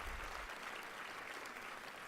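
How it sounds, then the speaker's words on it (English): Audience applause at a Coming Out Day community event in a venue, a short steady burst of many hands clapping at moderate level, with no voices over it. "give them a round of applause"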